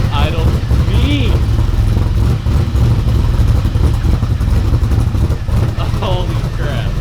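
A Ford F150 prerunner's engine roars loudly and close in a dense, rough rumble that holds throughout, with brief voices cutting in over it.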